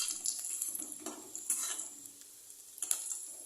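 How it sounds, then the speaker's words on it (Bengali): Chopped garlic dropped into hot oil in a pan, a soft steady sizzle with light stirring scrapes and a few clinks, fairly quiet and close. "তেল ভালো করে গরম হয়ে গেছে এবার এতে আমি দিয়ে দিচ্ছি রসুন কুচি"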